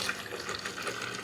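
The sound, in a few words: nut milk poured into a blender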